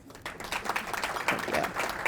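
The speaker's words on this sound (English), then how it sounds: "We'll give him a round of applause" Guests at a county awards luncheon break into a round of applause for a county executive, clapping swelling in after a brief quiet start and continuing at a moderate level.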